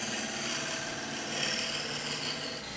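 A wood lathe tool shear scraping a spinning blank of resin and wood, giving a steady, close hiss with a faint whirring hum that holds evenly throughout.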